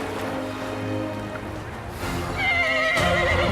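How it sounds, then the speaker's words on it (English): A horse neighs loudly and up close, a rising, wavering whinny with faint hoof clip-clop and outdoor beach ambience behind it. "Beach running with the boys on a horse?"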